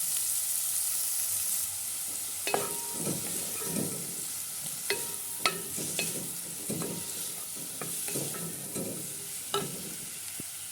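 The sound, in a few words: garlic and tomato paste frying in a pan for kabsa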